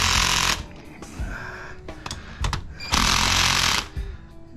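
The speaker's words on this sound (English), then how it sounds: "And that's not even supposed to be a hammer type drill." A loud power drill hammers in harsh bursts on a large Insinkerator garbage disposal being scrapped, stopping and starting twice with clattering, rattling pauses in between.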